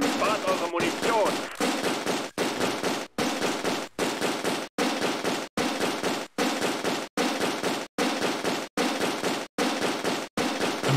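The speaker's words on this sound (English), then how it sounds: "The mortar teams are coming up to shoot their rifles because they ran out of things to shell us with." Rapid bursts of rifle fire from mortar teams in the Close Combat: A Bridge Too Far game, sharp cracks repeating in a steady chopped rhythm with brief gaps between volleys, loud and close.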